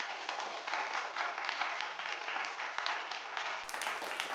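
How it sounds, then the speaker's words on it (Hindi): A group of cartoon children clap happily, producing a dense, continuous patter of applause at moderate volume that holds steady for several seconds with no voices over it. "फिर सब बच्चे खुश होकर तालियां बजाते।"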